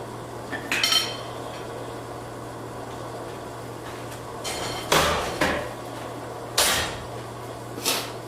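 A hammer strikes metal during an evening blacksmith forging session, landing a handful of sharp, ringing blows at irregular intervals over a steady low hum.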